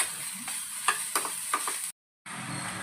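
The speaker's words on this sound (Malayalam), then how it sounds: "ഇനി ഇതിലേക്ക് കുറച്ച് ബട്ടർ ഇട്ട് കൊടുക്കാം കേട്ടോ." Butter sizzles in a hot pan among jackfruit-rind pieces as they are stirred: a continuous close frying hiss with a few scraping clicks, then a brief dead gap before the sizzle resumes.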